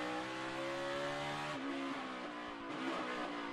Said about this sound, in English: Now you heard his downshift.